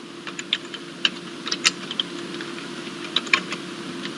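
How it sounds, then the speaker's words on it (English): Someone types on a computer keyboard while writing Java code, producing soft, irregular clicks and taps at close range over a steady low hum, with no talking. "I'm going to type it out, and after I have typed it out, I'm going to talk about that"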